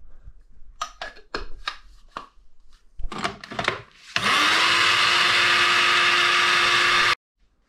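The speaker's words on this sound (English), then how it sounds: "So it's just a matter of putting them in the blender." Dried parsley and spinach first rattle and clatter in a kitchen blender, then the motor runs at a loud steady whir for about three seconds before cutting off abruptly.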